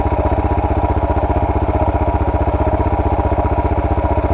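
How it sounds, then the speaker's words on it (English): A Suzuki DR650 motorcycle, fitted with a modified exhaust and carburettor, idles close by with a steady, even, rapid thumping pulse that holds constant throughout. "That's it idling. Sounds alright. I think that's a good idle."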